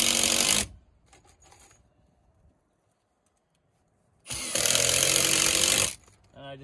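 A power drill drives screws into a footer board on a building site, two loud sustained whirring bursts, one at the start and a longer one later, with quiet gaps between.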